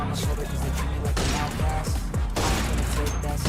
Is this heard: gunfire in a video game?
yes